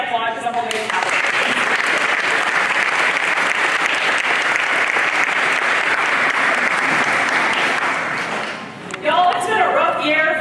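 Loud applause fills a K-12 awards ceremony hall, dense clapping starting abruptly after a short spoken phrase, holding steady, then dropping away as a speaker resumes talking.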